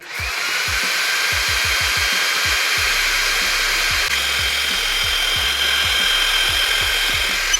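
A Creality Falcon2 40W laser engraver cutting half-inch plywood: a steady, loud fan and air-assist whir with a faint whine, punctuated by regular low motor thumps as the head moves.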